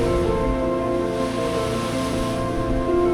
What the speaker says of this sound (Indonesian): menikmati pemandangan luasnya samudera dan ganasnya ombak samudera yang menerpa bebatuan karang